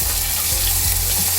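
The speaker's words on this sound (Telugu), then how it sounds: "ఇప్పుడు చివరగా పోపు వేసేసుకుందామండి" Tempering of spices crackling loudly in hot oil for an eggplant yogurt curry, a dense continuous close sizzle with a low steady hum beneath.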